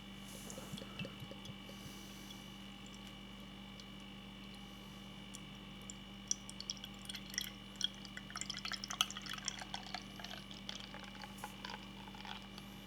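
Faint pouring and fizzing of Cherry Chouffe Belgian beer, with small drips and bubbling sounds growing midway, over a steady low electrical hum in a quiet room.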